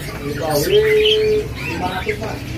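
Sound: Citohi songbird calling

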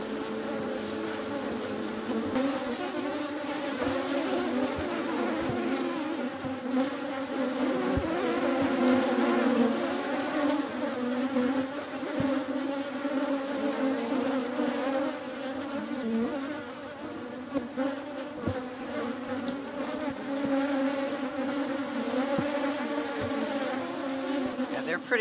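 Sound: upset honeybees buzzing around an opened hive

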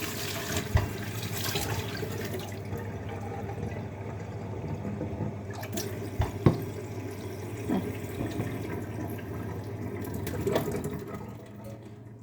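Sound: water running from a tap into a basin

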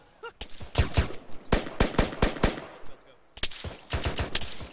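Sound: AK rifle gunfire

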